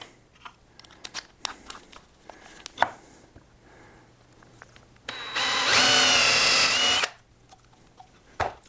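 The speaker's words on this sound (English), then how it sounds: "Drill 2 more holes all the way through." A power drill with a 7/32 bit whines steadily for about two seconds boring through whiskey barrel wood, set between scattered clicks and knocks of handling tools on a bench.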